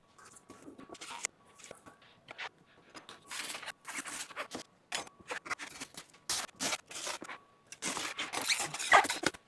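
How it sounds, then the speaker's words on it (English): Foam being cut off a zero turn mower tire, a run of irregular scraping, rasping strokes and short tearing bursts, close and fairly quiet, growing busier toward the end. "the next thing is just to get this foam cut off of here"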